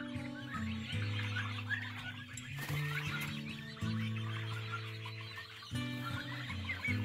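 Chicks and turkeys settle for the night in a village yard, with soft continuous cheeping and low clucking layered over a steady hum, fairly quiet and close.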